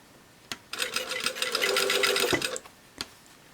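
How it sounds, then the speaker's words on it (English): A sewing machine stitches a seam on a dress bodice in one steady, fast burst of about two seconds, close and clear, with a few clicks just before and after. "A couple more, and then I'm going to back stitch."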